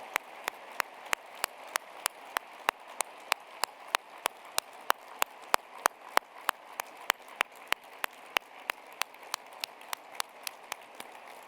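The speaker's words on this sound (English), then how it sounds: "give a big applause for the heroes of the program" Teachers are honored at an education academy program event with crisp, evenly spaced claps in a steady rhythmic beat, about three per second, sharp against a quiet room tone for the whole stretch.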